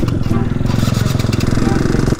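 A motorcycle engine catches and runs after the choke is pulled, a loud steady rumbling idle with a rapid pulsing beat that cuts off abruptly near the end.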